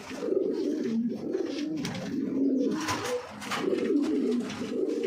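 Pigeons at a pigeon breeding set cooing in repeated soft, throaty rolling calls, several birds overlapping close by over faint background noise, with no talk.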